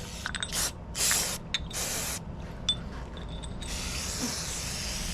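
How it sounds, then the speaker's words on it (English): Short bursts of carburetor cleaner spray hiss close up on a Champion 9375 dual fuel generator carburetor, several quick blasts in a row followed by a longer continuous spray. "clean everything off with carburetor cleaner. Make sure that all that water is off of everything, spray down"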